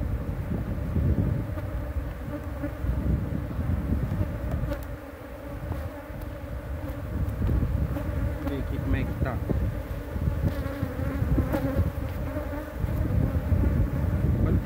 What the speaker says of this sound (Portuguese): Tanto de abelha. Muita abelha.